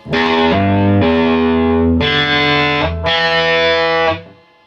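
Heavily distorted electric guitar notes are picked one after another, including the open fourth string, each ringing out loud and fuzzy before the last fades away.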